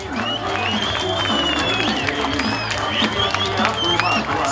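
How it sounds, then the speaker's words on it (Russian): An audience at a Hederlez festival event in Ceadir-Lunga applauds continuously, dense clapping mixed with crowd noise and shrill whistles throughout. "Слабо, слабо аплодируем!"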